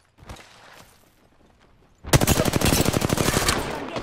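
Enemy gunfire in Apex Legends erupts halfway through, a loud sustained burst of rapid automatic shots after a quieter stretch with a few scattered pops.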